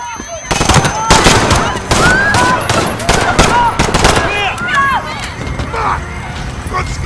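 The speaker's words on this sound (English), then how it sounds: "Shots fired." Rapid automatic gunfire and bursts of shots rattle loudly and almost continuously in a Call of Duty: Modern Warfare battle, with voices shouting underneath the dense barrage.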